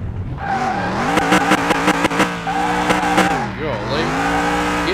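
An old junkyard Ford Mustang engine in Car Mechanic Simulator 2021, tested on a dyno, drones steadily and loudly, its pitch rising and falling through several revs with no voices over it.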